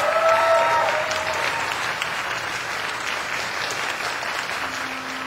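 An audience applauds the cast of Grey Gardens with steady, dense clapping that fills the room, loud and continuous, with a faint sung tone at the start.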